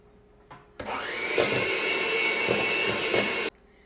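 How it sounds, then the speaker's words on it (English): Egg yolks for brownies being beaten with a steady, loud whirring motor that starts abruptly, holds a constant droning pitch for about three seconds with slight wobbles, then cuts off sharply. "we're going to take our egg yolks and beat them for about 5 minutes"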